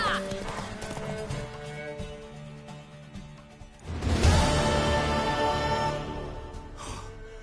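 Hooves clip-clop and a horse whinnies loudly in The Witcher 3, with the hoofbeats steady under game music before a louder burst of neighing and movement near the middle, then fading.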